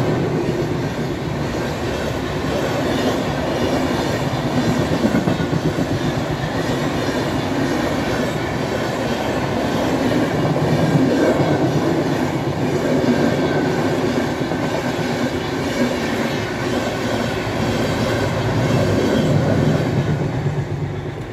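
A train rolls past continuously, its heavy rumble and rhythmic clatter of wheels on rails holding steady and loud throughout.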